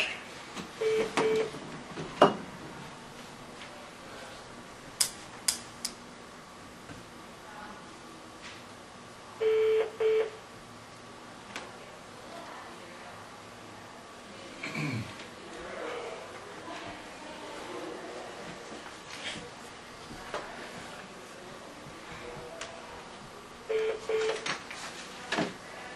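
Telephone dialing to connect a call during a county supervisors meeting: short bursts of beeping tones come in separate clusters with quiet gaps between them, over low room noise and brief background sounds.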